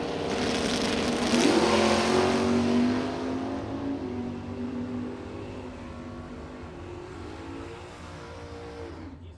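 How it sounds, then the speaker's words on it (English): An orange 1982 Mustang with a 468 big-block engine roars down a drag strip, its loud revving engine peaking early then fading as the car pulls away into the distance. "that orange 82 Mustang with a big block,"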